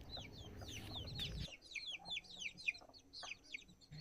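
Small birds chirp in a rapid series of high, bright calls on a cold, foggy morning, clear and fairly close, following a brief burst of low rumbling noise.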